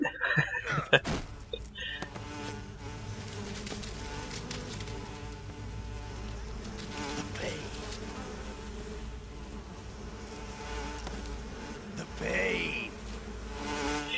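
Steady insect buzzing from a swarm of bees in the video game Metal Gear Solid 3 drones throughout, with a few brief thumps and faint voices in the background.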